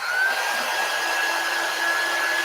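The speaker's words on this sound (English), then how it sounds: "I'm going to heat it with my heat tool real quick." Heat tool blowing hot air steadily to warm wax during a Chalk Couture fall decor craft project, a continuous close whooshing hum with no talk.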